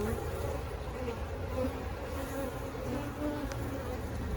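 A crowd of bees hums continuously inside an open hive box, the steady, close buzzing staying even throughout with no voices.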